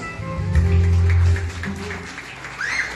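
Audience applause at a quinceañera ceremony, a broad wash of clapping under a low hum and some voices, loud at first and then thinning out.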